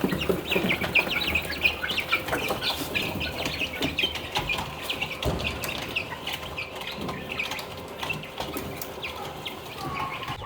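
Chickens and chicks cluck and peep steadily in a yard at feeding time, a dense layered chorus of close birds with occasional wing flutters and sharp knocks.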